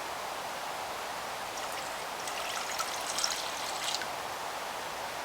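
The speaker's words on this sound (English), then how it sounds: "let's combine, we're gonna add the water." Water poured into a saucepan on a stovetop, a steady splashing stream running for several seconds, close and continuous, with no talking.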